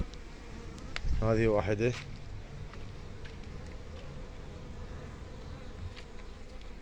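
Iraqi hybrid honeybees buzzing at apiary hives, a steady faint hum throughout, with someone speaking briefly near the start.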